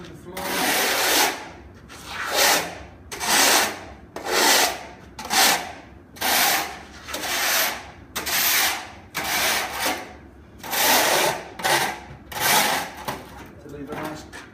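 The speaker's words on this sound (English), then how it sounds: "with a foot scraper, okay, scrape the bottom of the floor" Foot scraper scraping leftover plaster off a floor after a scratch coat, a rhythmic series of about a dozen loud, close, gritty scrapes with brief pauses between strokes.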